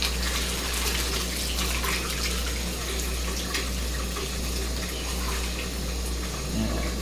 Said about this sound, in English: And I'm adding enough water to cover.